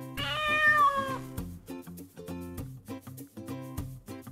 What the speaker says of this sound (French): et lui c'est le chat